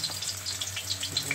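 Two kinds of onion hit hot oil, making a brief, even hiss of frying close by with small popping bursts, with no voices.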